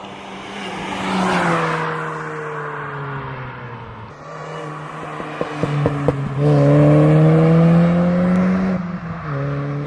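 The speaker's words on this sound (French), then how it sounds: "On entend le compresseur, c'est incroyable." Supercharged car engine revving on the road, with a steady whine and rising tones as the engine climbs and drops, a few sharp clicks midway, loud and close.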